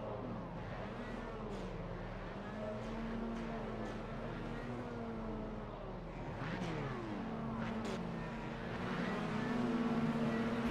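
Several sim race cars launch off the grid at Motorsport Arena Oschersleben in an esports race, engine tones sweeping and overlapping steadily, rising toward the end, with a commentator talking over them.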